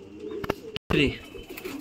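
Pigeons coo in low, throaty bursts close by, with a brief cutout of silence partway through and some faint background noise around the calls.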